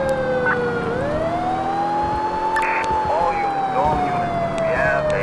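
Police siren wailing in a Liberty City video game during a street pursuit, a loud rising and falling tone sustained through the whole stretch over engine rumble, with brief talk layered in.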